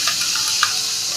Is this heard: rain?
no